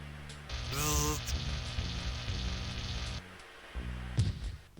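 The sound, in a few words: static discharge frying robot circuitry, Space Quest 6 video game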